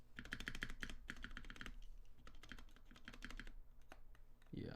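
Rapid, rattly clacking of keys on a Tofu65 mechanical keyboard, typed in quick continuous bursts up close, with a few brief pauses and a louder bump at the end.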